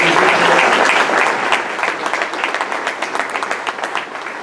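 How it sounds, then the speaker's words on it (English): An audience applauds a man honored as a legendary fan of South Carolina football, a full wash of clapping that thins into scattered individual claps near the end. "Let's give him a round of applause"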